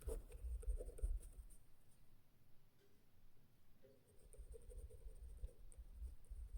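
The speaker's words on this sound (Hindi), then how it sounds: "थोड़ा सा हम लोग लिखेंगे" A pen scratches across paper while writing out a Class 10 maths solution, a quiet continuous scrawl with small pauses between strokes.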